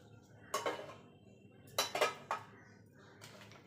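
A knife cuts homemade shop-style sandesh into squares, giving a few sharp, close clicks and scrapes of the blade against the tray in short separated bursts, with quiet gaps between and no talking.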